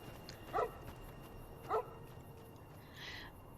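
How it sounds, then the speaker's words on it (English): A dog named Cheyenne in the video game Fallout New Vegas gives two short, quiet barks about a second apart, heard alone over a low ambient game background with a faint later tone. "This is nice dog Cheyenne."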